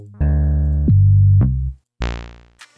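Synth bass tones from a drum sample pack play one after another: a buzzy sustained note, a lower droning note, then a bright, harmonically rich bass hit that fades out, with a short hit at the end.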